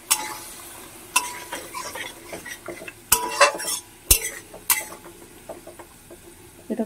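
Spice paste stir-fried in a pan for a light home-style stew, with a low sizzle beneath frequent sharp metal spatula scrapes and clanks against the pan, close and fairly loud.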